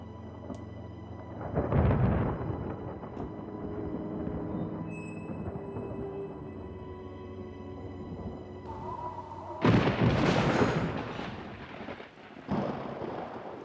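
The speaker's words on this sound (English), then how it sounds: "Looks like this storm will last the night." Thunderstorm with deep rumbles of rolling thunder, a heavy boom early on and another loud roll near the end, over a low steady background of rain-like noise.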